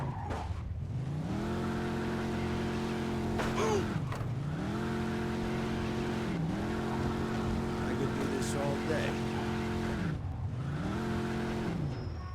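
A car engine in the video game Mafia II revs in repeated rising and falling sweeps, roaring steadily with brief tire squeals as it drifts through turns.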